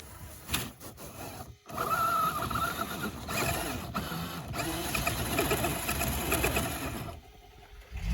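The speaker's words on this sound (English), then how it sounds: "Mike's over there with the axial RC car." An Axial RC car's electric motor whirs and whines outdoors at an off-road campsite, its pitch rising and falling as it runs for several seconds before dropping away, fairly close and clear.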